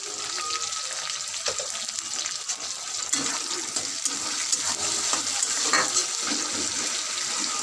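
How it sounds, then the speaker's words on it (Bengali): Tomato and onion frying with salt in a pan until reddish, a bright continuous sizzle with occasional small scrapes and splashes, heard close with no voices. "ভালো করে লাল লাল করে ভেজে নেব একটু লবণ দিয়ে দেবো টমেটো আর পেঁয়াজটা নরম হয়ে যাবে"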